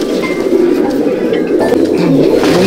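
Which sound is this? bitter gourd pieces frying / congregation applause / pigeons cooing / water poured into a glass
pigeons cooing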